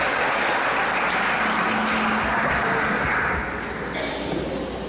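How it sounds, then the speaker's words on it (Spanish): Loud, dense applause from an audience at a talk on social dialogue, steady clapping filling the room and easing slightly toward the end. "Démosle un fuerte aplauso para recibir al padre."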